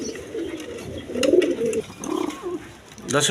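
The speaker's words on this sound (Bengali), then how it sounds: "এখানে এক পেয়ার কবুতর আছে চুয়াচন্দন কবুতর" Pigeons of the chuya chandan and high-flyer giribaz breeds coo in low, throaty bursts from close by, with a few brief louder calls among the softer murmuring.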